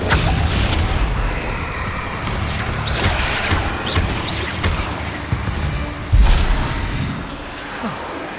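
A Bombarda spell explosion in Hogwarts Legacy on PS5 during a combat sequence, with a sharp blast hitting near the end amid a steady din of battle noise and smaller impacts, no talking.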